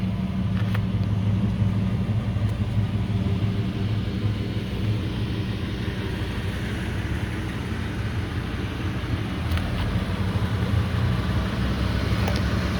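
A 2006 Ford F250 V10 4x4 truck with the catalytic converter deleted idles steadily, a low continuous rumble with a mild hum, moderately loud and even throughout.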